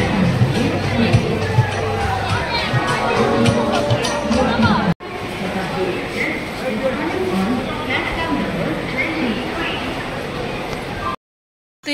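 Passengers crowd an Indian Railways station beside a Shatabdi train, making a dense murmur of overlapping voices and footsteps close by, briefly cut off midway and dropping to silence near the end, with nearby people talking.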